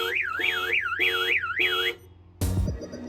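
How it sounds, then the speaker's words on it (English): A car alarm goes off after a door is opened on an unlocked car: a loud warbling siren sweeps up and down in several repeated bursts, then breaks off into a sharp, harsh blast. "someone has tried to open my door and the alarm's obviously gone off"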